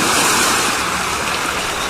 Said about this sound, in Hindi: लहरें उतनी ही बड़ी थीं,